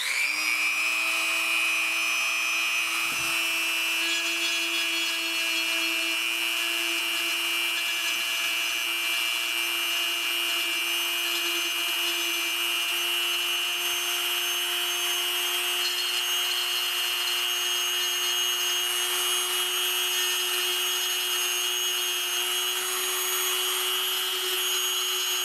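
A rotary tool with a sanding ball bit grinds out a plastic action figure, producing a continuous high-pitched whine that holds steady and close for the whole stretch, with no voices.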